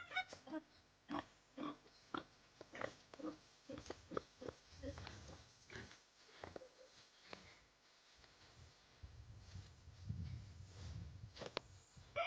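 Pigs raised on a rural farm plot grunt and oink in repeated short bursts, some close and loud, with sniffing and snorting between calls.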